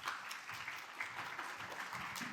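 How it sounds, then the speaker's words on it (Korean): A church congregation applauds to welcome its senior pastor, a soft, steady round of clapping heard alone. "우리 담임 목사님 나오실 때 우리 큰 박수로 맞이해 주시기 바랍니다."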